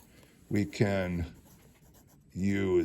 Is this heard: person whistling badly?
no